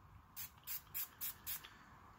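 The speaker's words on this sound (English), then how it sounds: "And we're just going to spray it on our napkin" A shaken can of color spray hisses onto a paper napkin in five short bursts, each about a fifth of a second long, close and fairly loud, with quiet pauses between them.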